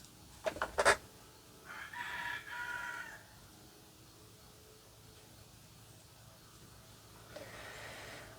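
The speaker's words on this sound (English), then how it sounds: "Probably hear the rooster out there doing his thing." A rooster crows outdoors a few times, moderately distant, with a short clucking burst first and a later crow, over a quiet background hum.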